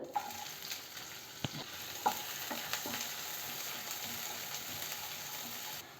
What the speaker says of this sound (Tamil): வெங்காயம் பாதி அளவு வதங்கிட்டு இருக்கும்போதே